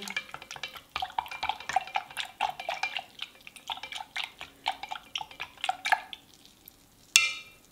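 A mixture for Turkish lacto-fermented vegetables is stirred with homemade apple vinegar, producing close, rapid wet clicks, sloshes and drips that end with one sharper clink.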